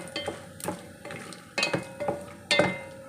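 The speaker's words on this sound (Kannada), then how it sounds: "ಸ್ವಲ್ಪ ಕಳೆ ಬೀಜ ಹಾಕ್ತಾಯಿದ್ದೀನಿ ಫ್ರೈ ಮಾಡ್ಕೋಬೇಕು ಇದು" Peanuts frying in oil in a pan, close stirring scrapes and rattles in four or five short bursts over a light sizzle, no talk.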